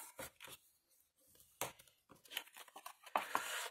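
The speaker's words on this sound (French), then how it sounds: "Alors, on marque tous les plis ou on calcule." Paper being creased and folded by hand for accordion-style binding, a few sharp crinkling and rustling bursts separated by short quiet gaps, close and moderately loud.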